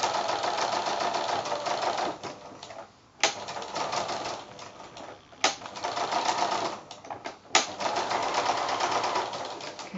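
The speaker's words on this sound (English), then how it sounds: "Don't sew into the freezer paper, just next to it." A sewing machine stitches fabric beside a freezer paper heart template for a quilted ornament, running in steady bursts of rapid mechanical chatter with brief pauses between runs.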